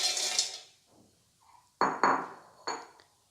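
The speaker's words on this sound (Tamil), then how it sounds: "இந்த மிக்ஸி ஜாரில் ஃபஸ்ட்டு ஒரு 200 கிராம்ஸ் பீனட்ஸ் நம்ம இங்கே ஆட் பண்ணுறோம்" Peanuts, about 200 grams, being poured into a metal mixer jar, heard as a few sharp clinks and rattling hits close by after a brief scraping rustle, alone with no talk.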